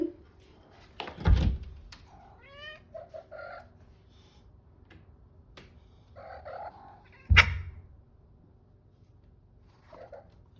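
A cat paws and bangs at a door, making two sharp, loud thumps several seconds apart, with quieter scraping and faint chirping sounds between them in an otherwise quiet room.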